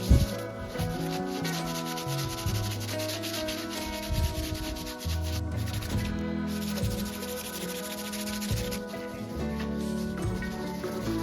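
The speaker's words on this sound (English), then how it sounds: "I'm going to go over it with sandpaper, which is really going to rough the board up" Sandpaper rubbing over a snowboard to rough up its surface, heard as continuous close scraping strokes in a back-and-forth rhythm, loud and alone.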